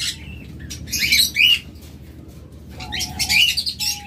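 A pair of cockatiels kept in a cage with eggs give loud, close squawks and chirps in two short bursts, with a quieter pause between them.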